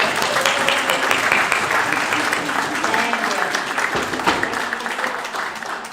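An audience at a Unitarian Universalist fellowship town hall meeting gives a new staff member a warm welcome with sustained, dense applause from many hands that holds steady throughout.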